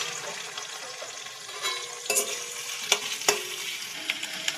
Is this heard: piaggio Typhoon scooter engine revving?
no